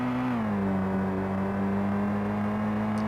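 Steady engine hum of a car in a Unity car game test drive, a constant droning tone that dips slightly in pitch early on and then holds level and loud throughout.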